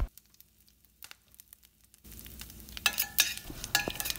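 Curry leaves and spices sizzling and crackling in hot oil in a pan, starting quiet and then bursting into loud, close spitting and popping that carries on steadily.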